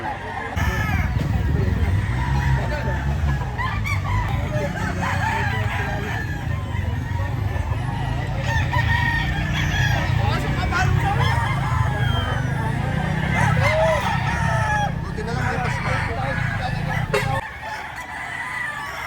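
Bull stag roosters at a gamefowl farm in Lipa, Batangas crow repeatedly, several birds calling near and far over steady background noise and faint clucking.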